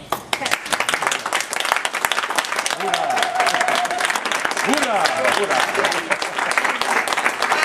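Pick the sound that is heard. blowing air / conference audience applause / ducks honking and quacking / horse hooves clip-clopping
conference audience applause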